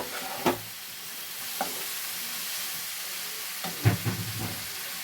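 Vegetables, beans and lentil dumplings (bori) cook in a pan with a steady soft sizzle, broken by a few sharp scrapes and clacks of stirring, close and fairly quiet.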